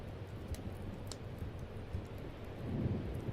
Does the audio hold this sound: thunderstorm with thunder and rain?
yes